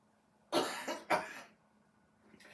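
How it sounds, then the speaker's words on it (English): Two close, harsh coughs in quick succession after a moment of quiet, followed by a faint bit of further noise at the end. "You're coughing."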